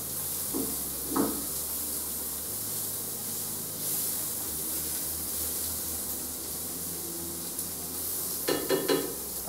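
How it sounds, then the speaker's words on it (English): Salmon and mushrooms browning in a pan for a creamy tagliatelle, a continuous close hiss and sizzle with brief scrapes and spatula clatter near the start and end, no talking. "I'm creating some room at the center of the pan so that the salmon will also get to brown as well"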